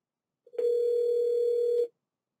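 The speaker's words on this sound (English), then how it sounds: "You can press the send button to dial the number." A Unitel Cloud T53 desk phone gives a single clean, steady electronic tone lasting just over a second as a number is dialed, with silence before and after.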